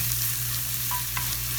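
A spiced fish mixture frying in a pan, giving a soft continuous sizzle over a steady low hum, with a couple of faint clinks partway through.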